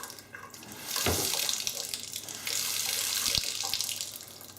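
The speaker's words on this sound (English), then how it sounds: "Water flows a little weird because I shut the water off for a little bit, but that'll straighten up" Water runs from a Moen high-arc kitchen faucet into the sink, a continuous close splashing hiss that swells and shifts in flow, with no talking.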